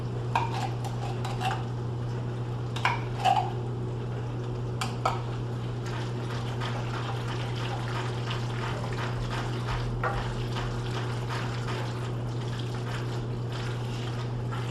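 A spoon working cheddar and blue cheese pasta in a pot, with scattered clinks and scrapes against the metal over a constant kitchen hum, near and fairly quiet with no talking.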